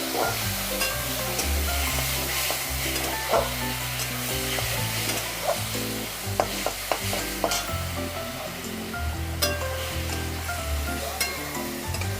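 Ridge gourd fries in a pan of oil while being stirred, giving a steady, close sizzle with repeated scraping and clattering of a utensil against the pan throughout.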